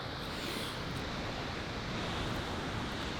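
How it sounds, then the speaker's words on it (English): Ocean surf washing onto an Alaskan shore near a waterfall, a steady, dense roar of breaking waves with some wind noise across the microphone, continuous and fairly loud throughout with no voices. "we just got down to the ocean."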